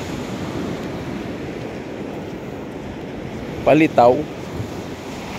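Sea waves washing onto a sandy beach in Limassol, Cyprus, a steady broad rush of surf with wind buffeting the microphone, interrupted briefly by a man's spoken word near the end.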